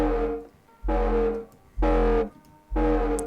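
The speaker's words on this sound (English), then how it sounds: "It gives it quite a cool tone for distortion." Distorted electronic bass in a produced track, with gain, a light chorus widening it and a small-room effect, playing three sustained heavy notes in a steady rhythm, loud and close with short gaps between them.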